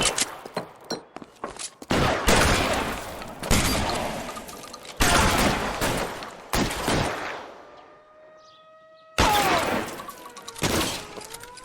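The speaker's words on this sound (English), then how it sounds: "I shot you with a damn shotgun." Shotgun blasts and other gunfire erupt in loud repeated bursts during a bank shootout in the video game L.A. Noire, separated by short pauses with ringing tones.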